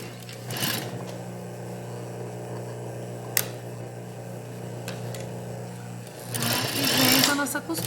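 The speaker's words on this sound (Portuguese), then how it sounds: "E vem com a nossa costura em cima da onde a gente já passou a costura da alça" A sewing machine stitches over a bag strap seam, running in a steady mechanical whir close by with a couple of bursts of faster stitching. Someone speaks over it.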